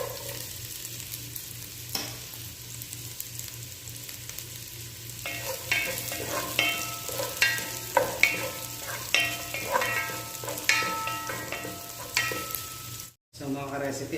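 Onion sautéing in a pan for chicken afritada: a quiet sizzle at first, then louder crackling with a series of rhythmic stirring scrapes and taps close by, ending in a brief cut.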